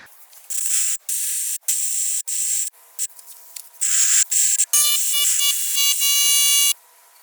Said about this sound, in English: I'm going to use this attachment to blow some air inside of the cylinders, try to get some of that dirt on out.